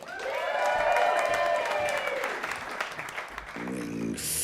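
A live audience applauds steadily for a comedy sketch, dense clapping with some cheering that holds for several seconds, then tails off as a voice and music cut in near the end.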